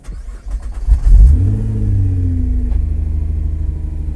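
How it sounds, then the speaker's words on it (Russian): A noisy car engine cranks and catches with a loud surge, then settles into a steady, rumbling idle with a rising whine. Nearby and alone, no talking. "Когда он заводится, ощущение, что что-то ломается в машине всегда. То есть это очень шумно."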